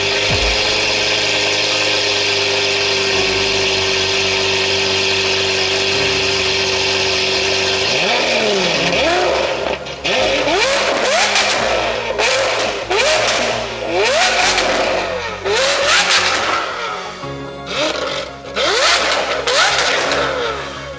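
Lamborghini SVJ with a straight pipe exhaust idling loud and harsh, then revved hard in several sharp, rising blips close by, with no talking.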